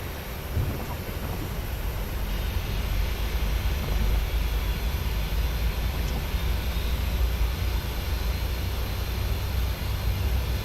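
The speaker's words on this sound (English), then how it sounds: "Let's get an outside view of this other engine starting up." A PMDG 737-700 jet engine spools up during start in the MSFS 2020 flight simulator, heard from outside as a steady, loud, broadband roar that holds for the whole stretch with no talking.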